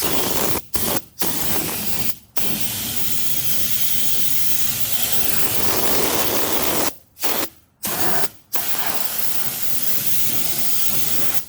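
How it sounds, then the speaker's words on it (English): Fluid Film rust protection hisses from a spray wand with a big tip into the tailgate area of a 2016 Ford Super Duty in long continuous bursts, broken by a few short pauses, loud and close. "You can spray right down in here."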